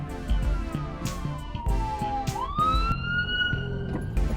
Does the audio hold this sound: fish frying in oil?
no